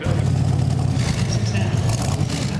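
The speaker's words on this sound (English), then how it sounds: "great noises, great engine sounds" A De Tomaso Pantera sports car engine rumbles steadily with a deep, throaty low-end drone, close and loud throughout.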